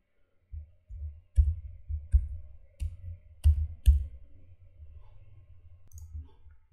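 Computer mouse clicking on a desktop while setting a folder path in a terminal settings window, a handful of sharp, close clicks spaced irregularly over low background hum, no talking.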